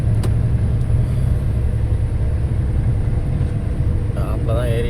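Vehicle engine rumbling steadily in top gear on a road near Thoppur, a loud continuous low drone heard from inside the cab, with someone talking over it.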